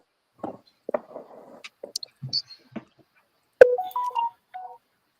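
A phone's text message alert sounds as a short tonal chime sequence near the end, preceded by scattered soft clicks and handling noises.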